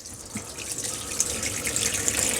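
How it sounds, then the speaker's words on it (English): Water runs steadily from a motorhome tap once the onboard water pump is switched on, a continuous hiss of flow that holds fairly even and close throughout. "Turn the water pump on."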